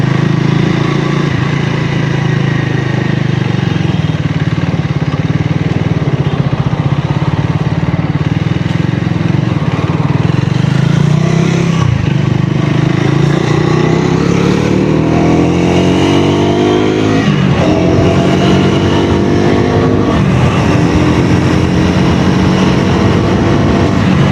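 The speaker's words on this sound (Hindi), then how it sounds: "चलिए थोड़ा राइडिंग साउंड भी सुन लेते हैं, एग्जॉस्ट लोड वगैरह कैसा आ रहा है इसका।" A Triumph Tracker 400 motorcycle with a dual-barrel exhaust and 40 BHP engine rides along, its loud, steady exhaust drone rising in pitch as it accelerates partway through, with no talk.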